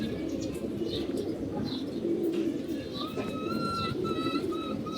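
An old-breed racing pigeon coos softly in a loft, with repeated low cooing phrases and a few brief chirps over a steady background hum, and faint voices nearby.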